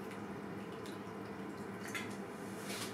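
Water trickles and drips into a fermentation airlock on a wheat mash fermenting with wild yeast, faint, close, small splashy dribbles against a steady low background hum.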